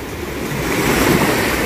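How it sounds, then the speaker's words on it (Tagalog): Large waves surging onto the shore at a beach resort in Lian, Batangas, a steady close roar of surf with wind buffeting the microphone and no talking. "Ah, malaki ang alon sa portion na to, pwedeng mag-surfing."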